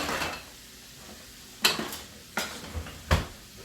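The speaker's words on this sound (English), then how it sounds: "now we're gonna stir this shit around" Bacon and omelet ingredients with mushrooms are stirred in a home-kitchen pan, giving a few separate clinks and scrapes of a utensil against the pan over a faint background.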